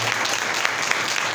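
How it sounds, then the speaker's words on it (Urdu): Loud, dense applause from a church congregation fills the space, a steady close wash of clapping with no pauses. "زوردار تالیاں"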